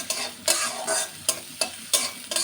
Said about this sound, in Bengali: এভাবে আমি পেঁয়াজটা ভেজে নিব পেঁয়াজের কালারটা বাদামি কালার না হওয়া পর্যন্ত আমি পেঁয়াজটা ভাজতে থাকবো